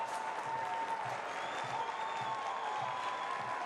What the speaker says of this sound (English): Certainly getting some applause and appreciation from the fans